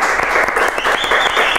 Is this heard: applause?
yes